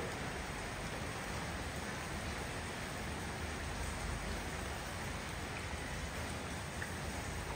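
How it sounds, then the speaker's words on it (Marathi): Steady rain falls across the Khed area, an even, unbroken hiss of drops with no voices or pauses throughout. "खेड तालुक्यात सर्वत्र पाऊस पडत आहे।"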